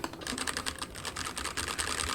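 Rapid typing on a Hansung TFG ART mechanical keyboard with box red switches gives a close, continuous run of crisp, fairly high-pitched key clacks with no talking.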